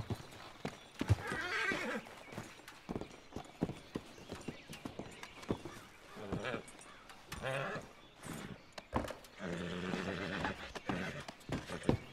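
A horse in Red Dead Redemption 2 clip-clops and whinnies close by in uneven bursts, with intermittent talk mixed in over the hoof sounds.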